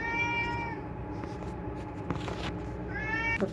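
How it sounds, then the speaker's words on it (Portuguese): A domestic cat meows twice indoors at home, a drawn-out call at the start and another near the end, clear and close over faint background room noise. "Meu gato já começou a gritar"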